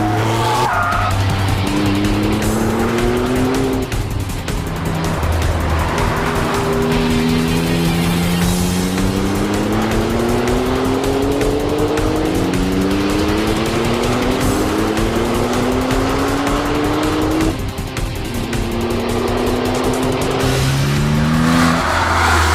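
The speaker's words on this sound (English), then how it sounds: "Now Hans Kepler pushes the Lykan to the limit." A W Motors Lykan HyperSport is driven hard: its engine roars loudly and climbs repeatedly through the revs, with tires squealing and skidding throughout and no talk.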